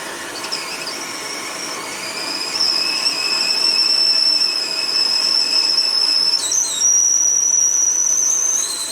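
Water boiling on a pressurised paraffin (kerosene) Primus stove: a steady, high whistle rises and wavers over a constant background hiss, with no voices.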